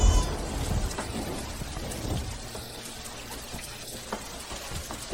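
Steady rain falls at night on a slippery road, a dense hiss with scattered drops and a low rumble that eases slightly after the first couple of seconds.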